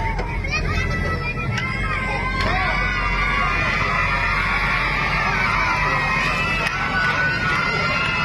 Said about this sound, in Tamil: உங்களுக்கு ஆரவாரம் அதிகமா இருக்கு